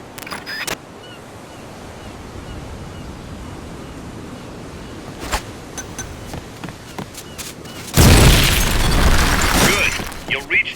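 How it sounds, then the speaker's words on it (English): A grenade blast blowing open a gate in Metal Gear Solid Peace Walker, with a loud broadband burst near the end that follows sparse clicks and quieter game ambience. "A grenade should be able to take out that gate."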